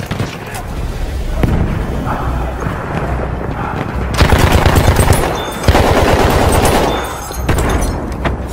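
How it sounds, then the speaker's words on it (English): Machine-gun fire in the video game Battlefield 1, loud, rapid bursts of automatic shots mixed with booming explosions, with a voice briefly heard over the battle noise. "Machine gun!"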